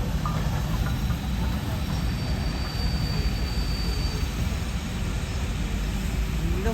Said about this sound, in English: Hogwarts train.